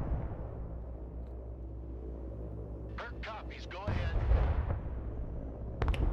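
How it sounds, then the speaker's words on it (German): Low rumbling artillery and gunfire from the real-time strategy video game Broken Arrow, with US Marines fighting Russians, roll on as a steady heavy boom. Someone speaks briefly over it, and the booms swell louder toward the end. "Ja, die schießen schon auf mich."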